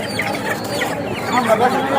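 Chickens at a poultry seller's stall cluck and fuss close by, with murmured voices mixed in underneath.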